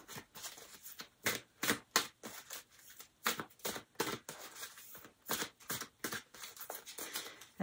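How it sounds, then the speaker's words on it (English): A tarot card deck shuffled by hand, a run of crisp rapid riffling bursts separated by short pauses, close and moderately quiet, with no talking. "I'm going to shuffle."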